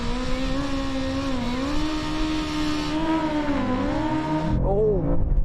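BMW M5 CS and BMW M superbike racing: a steady, loud engine drone with rising and falling harmonic pitch as they accelerate, with a voice talking over it and a sharper surge near the end.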